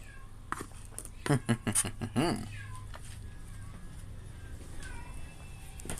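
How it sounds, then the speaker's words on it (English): A house cat meows and whines in a short burst of drawn-out, rising cries, fairly close and clear over a quiet indoor background. "my cat is being a freaking whiny baby"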